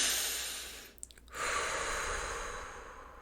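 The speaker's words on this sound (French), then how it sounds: "Tu prends une grande respiration." One deep breath, a long smooth breathy rush that swells and fades, with a short pause and catch partway through, heard close and quiet in a calm setting with no talking.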